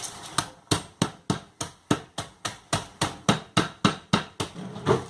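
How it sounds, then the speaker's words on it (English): Steady, evenly spaced thuds of a meat hammer smashing walnuts in a bag, around sixteen blows in quick rhythm, close and fairly loud with no talking. "I'm going to smash them up. I will use my meat hammer"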